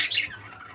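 A budgerigar in a breeding cage gives a single short, harsh squawk up close, with a faint chatter trailing after it.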